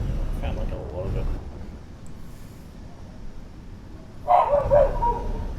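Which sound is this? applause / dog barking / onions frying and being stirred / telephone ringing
dog barking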